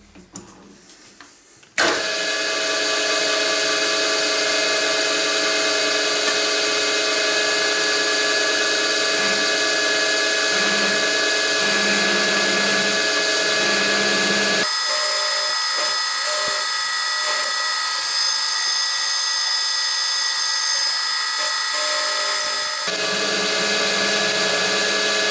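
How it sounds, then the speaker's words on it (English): A milling machine runs up to speed with a steady loud whine as a 6mm end mill plunges into metal, the pitch shifting partway through before settling back. "I'm going to plunge down on each end with the 6mm end mill."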